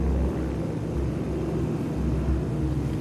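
Engines of WWII bomber aircraft in flight produce a steady, continuous low droning rumble that stays loud and unbroken throughout, with no voices.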